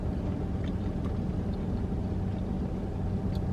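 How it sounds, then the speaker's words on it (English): A truck pulls in right beside a parked car, its engine a steady, close, low rumble that holds without a break for the whole stretch, with no talking. "This truck just pulled in beside me"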